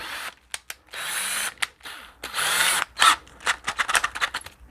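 A power drill fitted with a 19/64 bit drills back through plastic-filled holes in sewer-pipe drum shells, with repeated short whirring bursts and longer runs, stopping and starting close by, with no talk.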